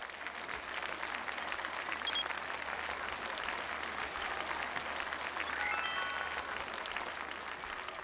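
An audience applauding at a stage award ceremony as presenters come up to hand out awards, dense steady clapping from a crowd that swells slightly partway through, with a few faint voices and whistles mixed in.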